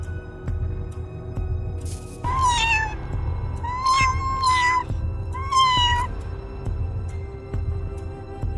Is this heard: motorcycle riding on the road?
no